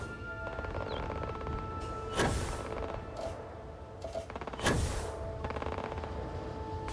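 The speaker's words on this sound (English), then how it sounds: "There's a gunfight. I hear gunfire." Distant gunshots in the video game Starfield crack through a steady background din, with two sharper bursts standing out among scattered faint pops.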